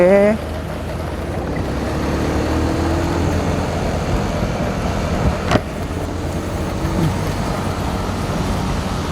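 A TVS XL100 moped on a test ride, its engine droning steadily beneath constant road and wind rumble, with a brief sharp knock midway; the rider talks over the ride.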